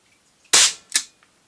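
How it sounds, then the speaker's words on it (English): Crosman air rifle firing a dome pellet across a chronograph: one sharp, close crack followed by a quicker, fainter snap about half a second later, then quiet. "Trying the Crosman dome pellets again, across the chronograph."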